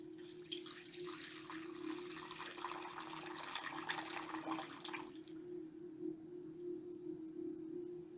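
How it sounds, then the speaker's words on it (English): Honeyed wine poured out as a libation during a ritual for Hekate makes a steady splashing trickle for about five seconds before thinning out, close and clear over a low constant hum. "as I pour this libation out to the goddess"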